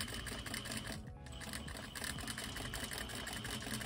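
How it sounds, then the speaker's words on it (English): A sewing machine runs continuously while stitching drapery fabric, a busy rapid mechanical chatter held close and fairly quiet, with a brief dip near the start. "I'm doing a little bit of taut sewing just to keep any loose fabric in place."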